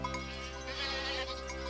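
Goats bleat in an animated Heidi episode, a continuous wavering bleat over a steady tonal background with no clear speech.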